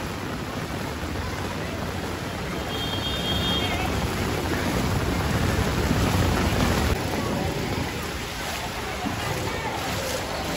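Rain pours onto a street in Mira Road, Mumbai, a dense, steady wash of hissing noise that swells slightly midway, with voices faintly present beneath the downpour.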